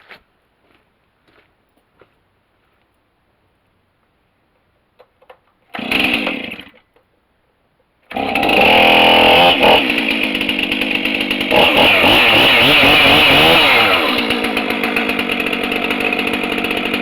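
A chainsaw is cold-started on full choke with its brake on and no decompression valve: a brief pull-start burst, a pause, then the engine catches and runs loud and steady at close range.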